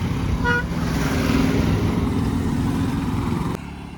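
Busy road traffic at a tourist spot in Alibag, with a steady engine rumble and a short run of car horn toots near the start, loud and continuous throughout.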